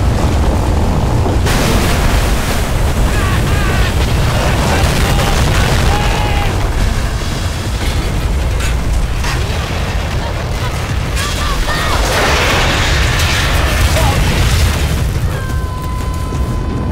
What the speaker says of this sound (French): J'ai compté que deux explosions.